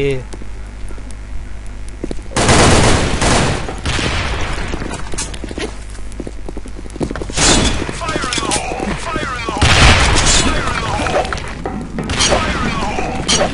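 Rapid AK rifle fire in the shooter game Sudden Attack, loud repeated bursts with impacts and crashes, under someone talking throughout.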